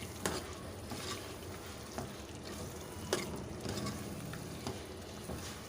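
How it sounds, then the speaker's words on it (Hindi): Half a kilo of chicken fries and is stirred in a pan for masala curry, giving a steady close sizzle with scattered sharp crackles and scrapes, no voices. "मेरे पास ½ केजी के बराबर चिकन है, ये हम इसके अंदर डाल देंगे। और इसको अच्छी तरह से भून लेंगे।"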